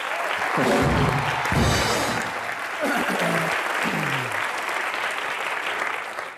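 A television comedy studio audience claps loudly and continuously for an arriving guest, a dense sustained burst with a voice calling out over it.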